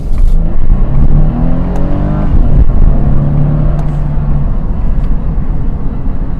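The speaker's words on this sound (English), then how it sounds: "for those of you who like the sound of V6, you do hear the V6" A Lexus IS 250 AWD with a V6 engine in sport mode revs from a stop sign, a loud, steady rumbling growl that rises in pitch and holds for several seconds. No one speaks over it.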